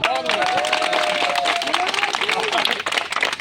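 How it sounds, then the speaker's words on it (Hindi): A crowd at a public gathering in Jahangirpuri claps loudly and continuously, with dense overlapping applause and voices mixed in. "जो अगर काम से खुश हो तो जोर से ताली बजाओ"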